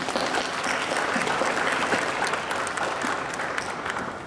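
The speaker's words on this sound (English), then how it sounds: "Let's give them a clap." An audience at a Hong Kong young writers awards ceremony claps steadily for poetry nominees, a dense, even wash of applause lasting several seconds without talk.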